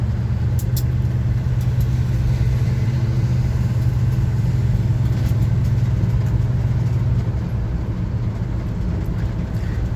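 1975 Chevy C10 truck engine while driving, a steady low rumble droning evenly throughout with road noise and no talk, easing slightly near the end.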